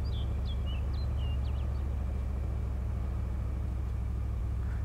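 Car engine in the DayZ video game climbing a hill, a steady low rumbling drone that holds continuously throughout, with faint chirping calls above it and no talking.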